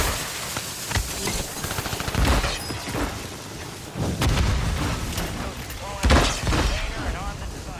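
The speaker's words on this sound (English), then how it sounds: "I'm mortaring, I'm mortaring, I'm mortaring!" Mortar and artillery fire in Call of Duty Warzone thumps and booms in bursts amid scattered gunfire, with frantic voices talking over the combat.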